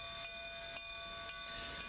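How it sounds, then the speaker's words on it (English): A diminutive Denver and Rio Grande K-36 class steam locomotive rumbles faintly in the distance, with a steady, thin whistle-like tone held over a low, continuous drone. "This man-made thunder, brought upon the earth by the diminutive steam locomotives of the Denver and Rio Grande"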